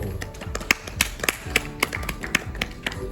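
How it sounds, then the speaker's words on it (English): A small audience at a talk on working in 3D animation gives scattered, light applause: separate sharp claps in a loose, uneven rhythm for about three seconds, close by and with no voices. "Please let's give him a round of applause."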